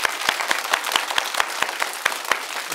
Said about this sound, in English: I want everybody to clap. Clap as loud as you can, okay?